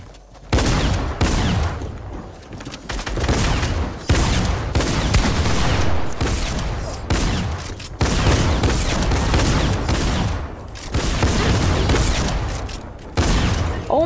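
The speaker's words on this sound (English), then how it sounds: "There's a shotgun on the loose!" Fortnite shotgun fire rings out in a video game, a run of loud, sharp shots repeating about every second or two across the stretch, close and punchy, with no talk over it.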